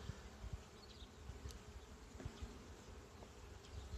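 A steady, faint buzzing of many gentle honeybees around an opened hive outdoors, with occasional close passes and light knocks of frames.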